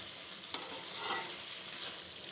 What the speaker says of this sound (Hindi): और बस इसको हम अच्छे से भून लेंगे ताकि ये सब्ज़ी हमारी ऑयल छोड़ दे